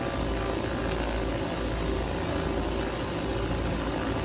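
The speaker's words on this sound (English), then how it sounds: "All right, let's start the right engine." The right engine of a twin-engine propeller plane starts in Microsoft Flight Simulator, with no one speaking. It settles into a loud, steady, dense engine drone that holds evenly throughout.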